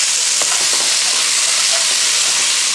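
Garlic and ginger with a long green chili sautéing in a pan for a chickpea and mushroom curry, a dense, loud, continuous sizzle heard close up, with a few faint stirring clicks.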